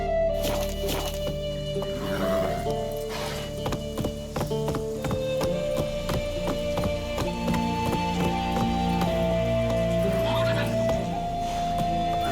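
Roach the horse gallops in The Witcher 3, hooves clip-clopping in a steady continuous rhythm under game music, with a rider's voice urging the horse on.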